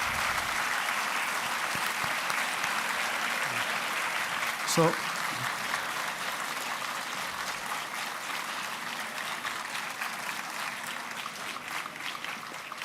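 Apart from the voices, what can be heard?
audience applause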